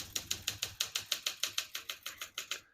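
A 1965 Olympia SM8 vintage portable typewriter types in a quick, even run of about sixteen sharp mechanical key strikes, close and clear with no voices.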